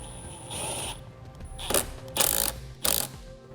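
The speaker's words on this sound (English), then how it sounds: "Reinstall the bevel nut." A ratchet wrench tightens a bevel nut on a stud while installing a Roadmaster InvisiBrake flat-tow brake system on a 2017 Jeep, heard as a few close, quick clicking bursts in short strokes.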